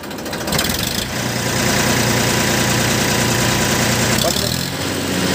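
A 2001 Massey Ferguson 1035 DI diesel tractor engine runs loud and close, a steady heavy rumble that pushes higher as it is revved, with a brief dip partway through.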